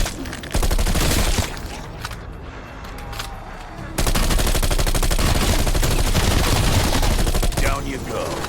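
Rapid SMG gunfire bursts in Call of Duty Cold War Zombies, loud and dense, with sustained automatic fire broken by a brief lull, plus explosions and game noise, under occasional talk.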